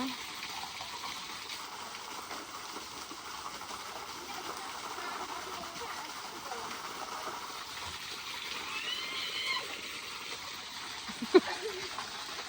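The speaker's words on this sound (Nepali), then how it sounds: "माथिदेखि झरिरहेको पानी त्यो चाहिँ नेचुरल झर्ना खोल्सीको खोल्सीको झर्ना" A natural village stream falls down a small rocky gully, a steady broadband rush of water that holds even and continuous throughout, with faint voices now and then.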